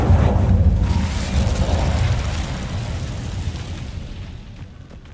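Incendio fire spell cast in Hogwarts Legacy, a loud whooshing burst of flame at the start that rumbles and fades away over several seconds.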